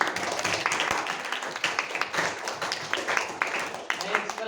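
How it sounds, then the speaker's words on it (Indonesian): Students in a history classroom clap together, a brisk, moderately loud burst of hand claps with some uneven sharper hits, and voices talk over it. "tepuk tangan untuk."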